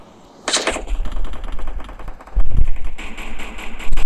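Loud, close bursts of rapid gunfire in the mobile battle game Free Fire, with a sustained rattling volley, a brief lull, then heavier shots and another burst at the end.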